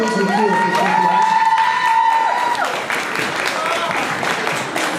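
Crowd at a cosplay convention conference applauding and cheering, with whoops and shouted voices riding over steady clapping that continues across the whole stretch.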